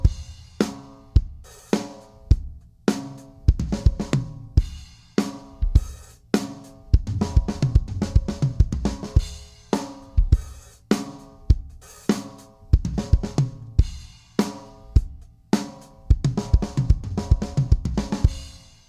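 A drum kit plays a steady, simple rock beat with regular kick and snare hits and hi-hat over a looping groove, no voices.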